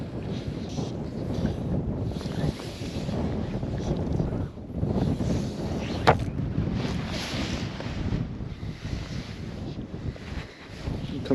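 Strong, gusting wind buffets the microphone beside a river during winter fly fishing, a steady broadband rush that swells and dips, with a brief sharp knock partway through.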